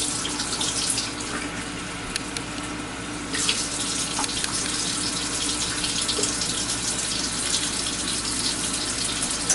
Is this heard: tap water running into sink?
yes